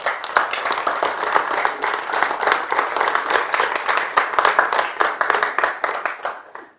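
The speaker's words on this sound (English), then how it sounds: "that was quite a loud applause" Loud, sustained applause from a conference audience, dense clapping that rolls on steadily for several seconds before beginning to fade at the end.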